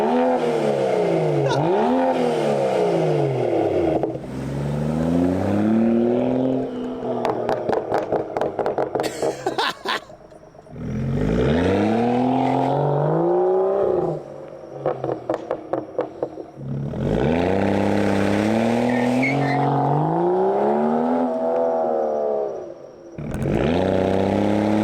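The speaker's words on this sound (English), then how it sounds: "That AWE exhaust on F30 sounds so good, and I'm actually surprised how loud it sounded" A BMW F30 335i with the N55 engine and an AWE exhaust accelerates hard through the gears, loud rising engine notes repeatedly swelling and dropping away with brief crackles between pulls, heard up close.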